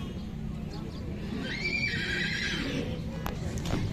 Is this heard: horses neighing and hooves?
yes